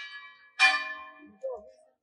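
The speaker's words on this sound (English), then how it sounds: "Oh, it actually rings the bell." A town bell in a Spanish or Portuguese city rings once with a loud, bright strike that decays slowly, heard up close outdoors, followed by a fainter low second note.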